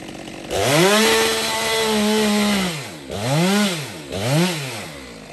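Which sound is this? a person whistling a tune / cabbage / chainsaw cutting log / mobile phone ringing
chainsaw cutting log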